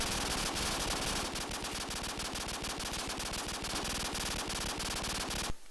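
P90 submachine gun fires a long, unbroken automatic burst in a video game, rapid evenly spaced loud shots at a very high fire rate, cutting off abruptly near the end.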